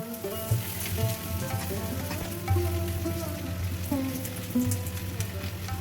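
Okra and onions fry in hot oil with a steady, close sizzle and crackle, while faint household clatter and tonal sounds drift in the background.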